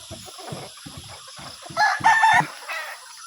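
A five-month-old tailless Super Sweater gamecock rooster crows once in a backyard coop, a loud, clear call rising over soft clucking and shuffling from the rest of the flock.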